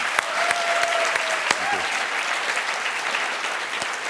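Audience applause at a student technology competition world final, a steady, sustained wash of clapping from a large crowd with a few sharp individual claps standing out.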